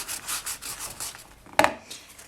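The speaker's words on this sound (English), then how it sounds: "sanding the flowers here and avoiding the rest of the bowl can be a little bit tricky" Short, rhythmic rubbing strokes of fine sanding on polymer clay flowers on a bowl, close up, with one brief sharper scrape near the end.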